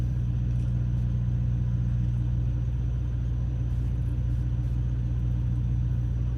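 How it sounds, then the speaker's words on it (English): A truck's refrigeration unit runs steadily at a Walmart delivery dock, a loud constant low-pitched engine drone and rumble with an even, unbroken hum and no talking. "You don't hear that reefer running in the background?"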